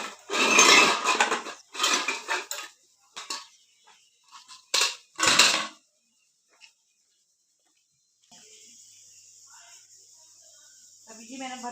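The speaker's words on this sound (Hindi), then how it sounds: "मैंने सारे बर्तन जो है वो धो लिए। अभी सारे उठा के रखते हैं" Washed dishes, pots and pans being put away, with a few loud clattering bursts of metal and crockery knocking together early on, then near silence with a faint steady hiss.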